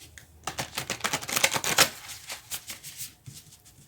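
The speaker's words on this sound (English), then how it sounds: "I wanted to give them another quick shuffle" Tarot cards riffled and shuffled quickly, a dense run of crisp flutters and slaps, close and clear with no talking.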